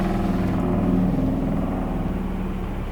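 A Jeep rumbles past nearby, a steady loud engine drone with low rumbling that holds for a few seconds and eases slightly as it moves on.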